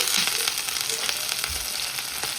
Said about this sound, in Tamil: இது நல்ல வடிவாக வதங்கி கொண்டு இருக்குது